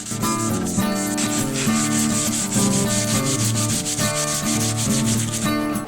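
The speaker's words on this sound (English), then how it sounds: "I do a bit of finish sanding on the board to get it ready to be stained." Continuous rough sanding on a wooden board, a steady abrasive rubbing with rhythmic strokes, close and fairly loud, no talking.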